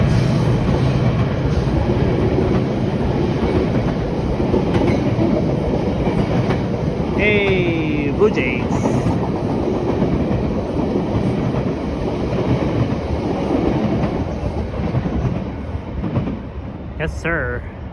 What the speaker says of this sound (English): at least we saw one GO train pass by. It's heading east towards Union Station.